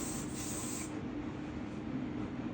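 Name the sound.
hair spray being sprayed on hair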